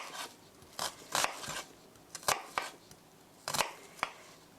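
Kitchen knife scoring shallow cuts into the root end of a vegetable on a board, a series of sharp close taps and crisp slicing clicks in irregular clusters, fairly quiet, with no talk.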